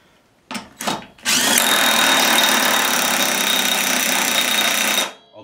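A power gun whirs loudly and steadily for about four seconds, tightening a pulley nut on an MTD White LT200H riding lawn mower, preceded by two short bursts.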